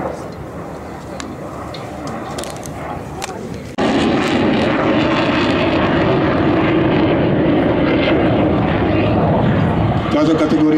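A MiG-29 fighter jet roars loudly past at an air show in Sliač, a steady broadband engine rumble that swells sharply partway through and stays strong, with a crowd murmuring faintly beneath.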